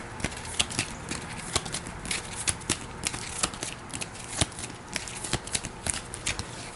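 Playing cards for a Hero Realms card game being shuffled and riffled, producing a steady stream of close, crisp flutters and snaps, with no talking.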